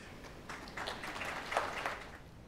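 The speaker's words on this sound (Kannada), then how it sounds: "ಚಪ್ಪಾಳೆ ಯಾಕೆ ತಟ್ತಿದ್ದೀರಿ" Faint scattered clapping from an audience at a spiritual talk, swelling briefly then tapering, heard at a distance under a quiet background.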